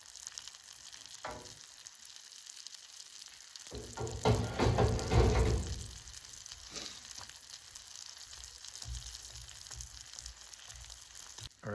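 Bacon sizzles in grease on a duck blind cooktop, a faint, steady crackle and hiss with a louder burst of frying in the middle and occasional clinks from stirring.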